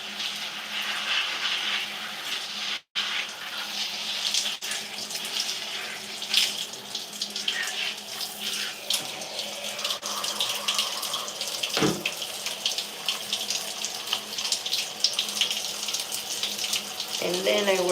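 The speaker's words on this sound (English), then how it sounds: "let's rinse that conditioner out first" Water runs steadily from a tap while conditioner is rinsed out of hair, a continuous close splashing rush with small changes as the hair moves through the stream.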